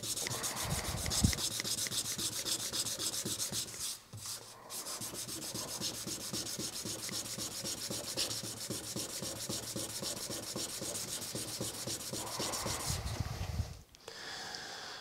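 A Venom Attacker knife with an M390 steel blade is rubbed with sandpaper in steady back-and-forth rasping strokes, close and continuous, with a brief pause around four seconds and another near the end.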